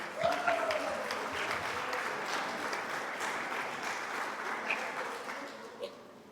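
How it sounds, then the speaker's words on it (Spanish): A church congregation applauds, a soft, steady wash of many hands clapping for several seconds at a fairly low level, with a faint voice briefly audible at the start. "Les damos un aplauso"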